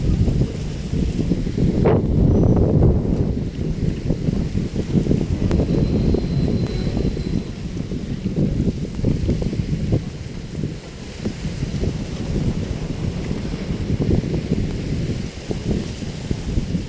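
Strong wind gusting across the open Manila Bay shoreline, a steady loud roar of buffeting microphone noise lasting throughout with no pause.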